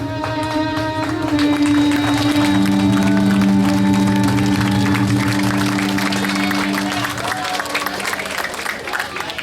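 An audience applauds and cheers after a children's Bangsawan theatre performance by Sanggar Mitra Perkasa at the Festival Inderasakti on Pulau Penyengat. The clapping is close and sustained under lingering musical tones, then thins toward the end.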